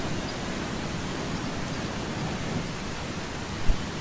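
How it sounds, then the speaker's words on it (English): Steady rain hisses across the whole Eastshade game world, a thunderstorm drumming evenly with a faint low rumble near the end and no voices. "I wonder how long this storm is going to last"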